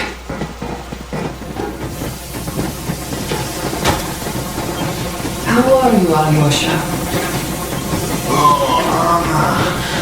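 A steam train departing in the video game Metro Exodus, with loud hissing steam and rumbling rail noise throughout, while a voice speaks briefly over it.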